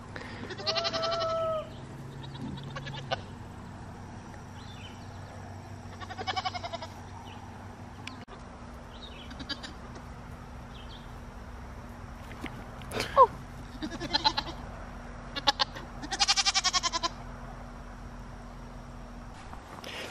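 Goats bleat on a farm at night in several separate calls, some close and loud and others softer, spaced across a quiet background with a low steady hum.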